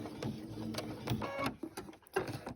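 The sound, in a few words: sewing machine sewing quilt binding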